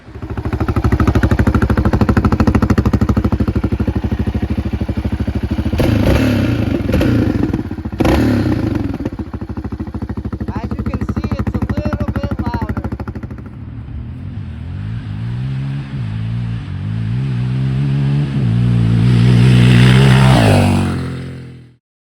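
A Yamaha Raptor 700 ATV engine with its spark arrestor removed roars loud and close, clattering through rough revs before climbing in pitch to a high whine and then cutting off.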